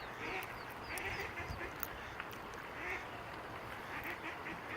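Ducks quacking around a duckling that the others are bullying: several short quacks, faint and somewhat distant, over steady outdoor background noise.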